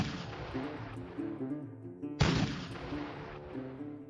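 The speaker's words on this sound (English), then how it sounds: "where cannon fire gave them pause" A single heavy cannon shot booms out and rolls away into a long decaying rumble, set within a low, continuous battlefield background.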